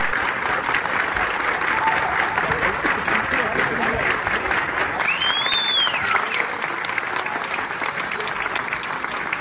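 Audience applause for a Koraputia comedy film, a steady dense wash of clapping across the whole stretch, loud and close, with a voice calling out over it.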